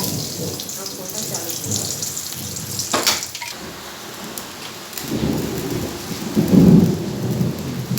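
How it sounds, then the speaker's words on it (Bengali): A thunderstorm with rain pours steadily while low thunder rolls and cracks nearby, including a sharp clap early on and a heavier rumble swelling toward the end. "কিন্তু বৃষ্টি এসে গেল"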